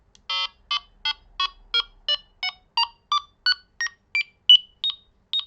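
A Delkim bite alarm in tone setup mode gives a string of about fourteen short, clear electronic beeps at an even rhythm, each one stepping to a new pitch, loud and close in a quiet room.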